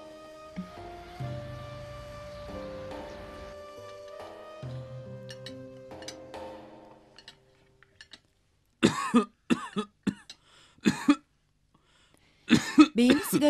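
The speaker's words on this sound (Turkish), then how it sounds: "Beyimiz sigara öksürüğüne tutuldu baba." A man who smokes coughs in several harsh, close bursts spaced across the moment, after a stretch of quiet background sound and faint clinks.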